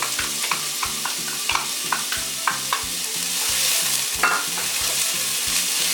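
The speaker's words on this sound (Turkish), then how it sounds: "Soğanlarım terleyene kadar karıştıracağım." Onions sizzle and fry in a pot while a utensil stirs them with repeated scraping knocks, steady hiss underneath, no voices.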